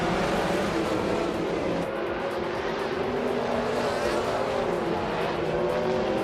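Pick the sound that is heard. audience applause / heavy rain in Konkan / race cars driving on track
race cars driving on track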